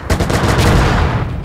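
A tank gun firing in the video game Gunner HEAT PC, a single loud blast that erupts and rolls on as a heavy, sustained roar with ringing echo.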